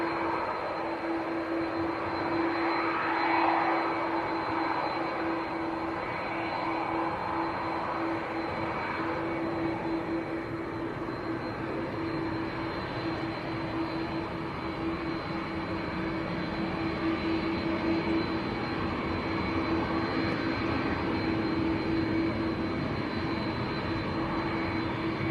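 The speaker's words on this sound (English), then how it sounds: "the little French bizjet that came in this morning is taxiing out for departure as well" A small French-registered Hawker business jet taxis out for departure at Manchester Airport, its engines giving a steady, moderately distant whine with a constant tonal hum throughout and no talk.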